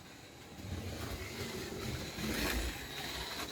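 An analog slot car running laps on the outside lane of a home track at full trigger, a thin steady electric motor whine that rises and falls slightly, fairly faint and with no talk.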